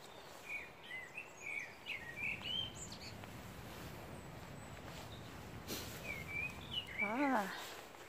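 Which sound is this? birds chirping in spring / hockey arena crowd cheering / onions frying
birds chirping in spring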